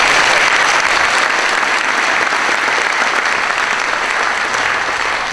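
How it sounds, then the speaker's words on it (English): A crowd at a community forum on school safety claps continuously, a thick, even wash of applause that stays loud and close the whole time before easing slightly at the end. "deserve our applause as well."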